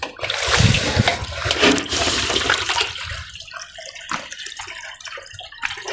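Water gushes loudly from an opened tap for several seconds, then eases to a softer trickle with scattered splashes and clatter.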